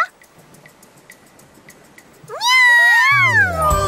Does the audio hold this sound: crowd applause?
no